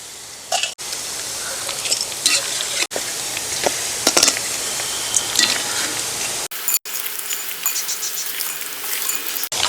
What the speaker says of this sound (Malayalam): അങ്ങനെ നമ്മുടെ ബീഫ് നമ്മൾ വറുത്ത് കോരി കേട്ടോ